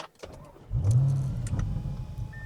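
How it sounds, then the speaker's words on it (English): A car fitted with a Corsa exhaust fires up, its engine catching with a sudden deep rumble that settles into a loud, steady idle as the exhaust valves open; no one speaks. "and it pops. Instant Corsa. And you can hear the valves already opening."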